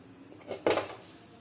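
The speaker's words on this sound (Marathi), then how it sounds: "आता मी काजूच्या बियांवरती झाकण ठेवून घेते" A lid lands on a pot of boiling fresh cashew seeds in a home kitchen, giving a single close metallic clank with a short ring, preceded by a soft scrape, in an otherwise quiet room.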